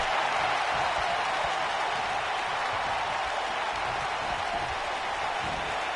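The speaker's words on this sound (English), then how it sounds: "Listen to this crowd." Broad, steady arena crowd roar in WWE 2K19 with cheering and applause, a continuous wash of noise from a large audience.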